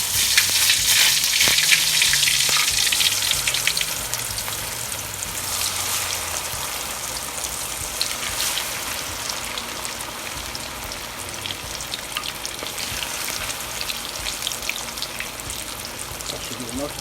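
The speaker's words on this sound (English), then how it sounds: "now we're gonna take each fish and set it in there and let it fry." Whiting fish sizzle and crackle steadily as they fry in a pan on medium-high heat, a loud hiss that eases slightly after the first few seconds and continues under occasional talk.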